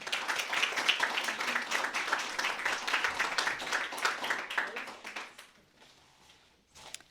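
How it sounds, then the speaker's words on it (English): Audience applause for Ariel at a reading event, a fairly small crowd clapping in a brisk, scattered patter for about five seconds before it fades to near silence, with a few late claps at the end. "All right, please clap for Ariel."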